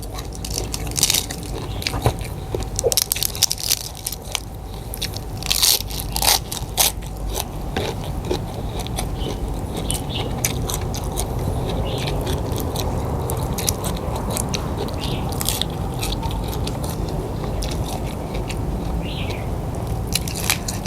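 Crisp pork cracklings are bitten and crunched close to the mouth, with repeated crackling bites over continuous chewing noise throughout.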